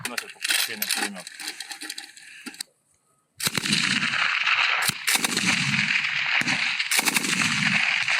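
Heavy machine gun fire, such as a DShK or Browning, plays in rapid, loud sustained bursts after a short gap of silence. The shots come first under talking, then fill the rest of the recording almost without a break.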